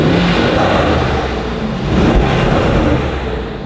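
A Mercedes-AMG GLE 63 S Coupe engine rumbles and revs up close, a loud, steady, deep roar that swells slightly partway through, with no talking.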